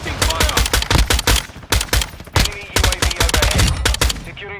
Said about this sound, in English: I need help. Take them back. I'm taking fire.